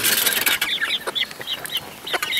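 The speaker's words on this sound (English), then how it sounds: "The little birds are probably going to have a fit and think I'm going to feed them," Backyard hens clucking in short, busy bursts that overlap one another, close and fairly loud, while a flock crowds around expecting to be fed; no one speaks.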